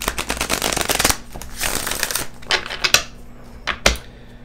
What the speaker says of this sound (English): Just going to give this deck one more shuffle.